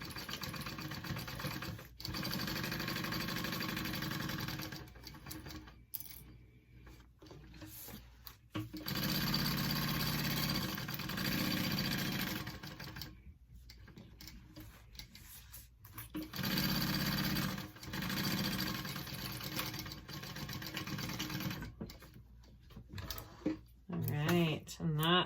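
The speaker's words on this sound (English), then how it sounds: "I'm going to sew around these three sides, and I'm just basting." A sewing machine bastes around three sides of a fabric mini backpack piece, running in long steady rapid stitching bursts separated by short pauses, close and fairly quiet.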